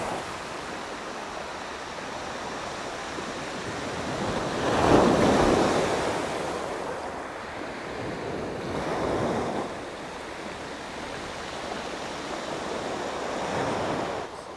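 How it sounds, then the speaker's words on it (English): Large ocean waves from a ferry's wash surge and crash in three distinct swells, each rising to a broad roar before easing back into a steady wash of surf and wind. "This is a track with much larger waves after the wave wash from the ferry."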